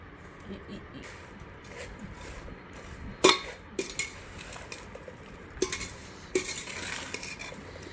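A dry spoon stirs salt into raw Totapuri mango pieces for a Karnataka-style pickle, giving soft scraping and several sharp clinks against the container, with a person talking throughout.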